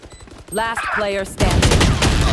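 Gunfire in the tactical shooter Valorant, rapid loud shots crackling in a dense burst after a brief tonal game sound, filling the second half closely.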